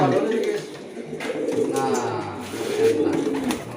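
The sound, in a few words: racing pigeon cooing in the team's loft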